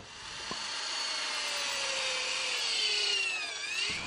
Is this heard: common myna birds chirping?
no